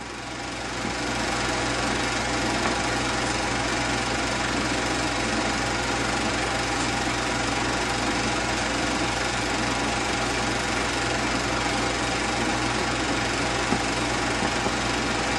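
An Allis-Chalmers WD-45 farm tractor engine runs steadily, a loud, continuous mechanical drone with a dense rapid knock and no talk over it.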